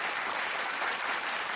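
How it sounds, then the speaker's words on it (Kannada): Sustained applause from a studio audience at a televised game show, dense and steady clapping with no talk over it. "ಚಪ್ಪಾಳೆ"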